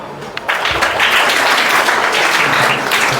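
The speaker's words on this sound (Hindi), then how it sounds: "तालियां दोबारा बजाओ" Audience at a village general knowledge quiz competition applauds, a dense wash of clapping that swells up after a brief quieter moment and holds steady and loud, with no talking over it.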